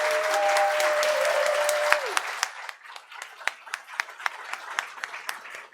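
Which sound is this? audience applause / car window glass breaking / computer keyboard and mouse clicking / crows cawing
audience applause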